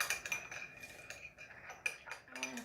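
Salad dressing of sugar and salt stirred with a spoon in a bowl, a quiet run of quick metallic clinks and scrapes in an irregular rhythm, close up, with no speech.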